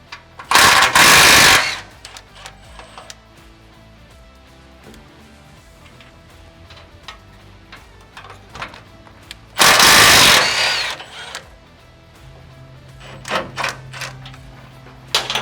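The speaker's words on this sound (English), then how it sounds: "I'm just going to remove these two bolts, but I'm going to do them one at a time" Two loud bursts of rapid mechanical rattling, like a ratchet or impact tool working bolts on a Toyota Hilux N70 single cab, stand out over quiet clinks and handling noises.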